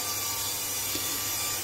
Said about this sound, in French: ma lame de scie, même si je l'avais bien nettoyée, commence quand même à avoir un petit peu de mal